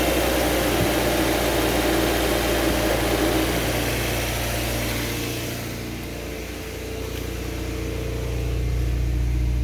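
A car engine runs steadily up close while air is bled from the radiator, a loud even drone that eases off briefly in the middle and then returns to the same pitch. No voices are heard.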